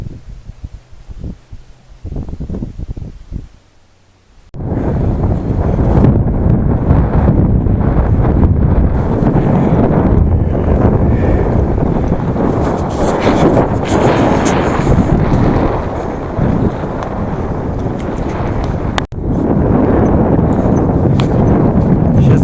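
A strong headwind on a mountain pass road in Mongolia buffets the microphone: after a quieter opening, a loud, continuous, roaring rush of wind fills the rest, with only a brief dip.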